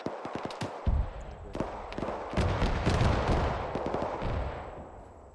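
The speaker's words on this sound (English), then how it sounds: "You guys are seeing that that fucking autocannon fire at you from across the bridge to the northwest" Autocannon fire in the military video game ArmA 3: a scatter of sharp shots and heavier booms, followed by a rolling, rumbling wash of gunfire that lingers and slowly fades.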